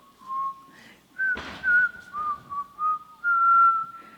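A clear whistled tune of several held and sliding notes, with a brief rustling noise partway through.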